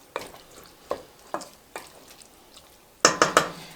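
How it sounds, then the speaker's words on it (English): A spoon stirs raisins into pear chutney in a pan, giving soft scraping strokes at intervals, then a quick burst of louder clinks and taps against the pot near the end. "So you're just going to stir them in."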